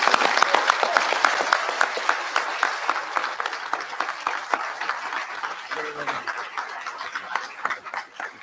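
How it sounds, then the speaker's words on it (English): Audience applause for graduating St. Paul firefighter recruits at their academy ceremony, a sustained crowd of hands clapping steadily at moderate distance for several seconds, fading slightly near the end. "we could just give our recruits a round of applause"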